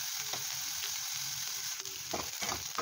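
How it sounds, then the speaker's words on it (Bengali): Potato and onion frying in a pan, a faint, continuous sizzle with soft stirring scrapes throughout. "1 মিনিট মতো আলু ও পেঁয়াজ ভেজে নিয়েছি"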